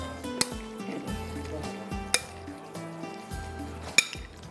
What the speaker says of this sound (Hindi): इसके बाद इसमें जाएगा दही, ठीक है, इसको करते हैं अच्छी तरह से मिक्स